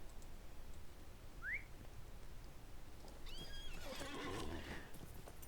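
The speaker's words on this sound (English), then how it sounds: "giving us a clickable horse" A short, quiet whinny from a horse in a video game, followed by faint whistling chirps and a brief rustle over a low background hiss.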